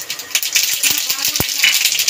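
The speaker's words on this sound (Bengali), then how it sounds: "তেল গরম হয়ে গেছে, ফোড়নে দিয়ে দেবো কালো সর্ষে।" Black mustard seeds sputter in hot oil in a wok, giving a quick series of sharp, close crackling pops and clicks over a low sizzle.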